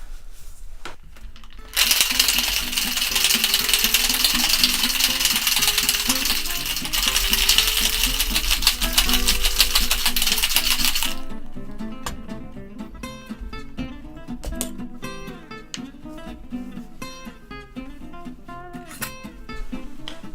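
Cocktail shaker with ice shaken hard for a wet-shaken whiskey sour, a dense loud rattle of ice for about nine seconds, then lighter clinks and taps as it settles.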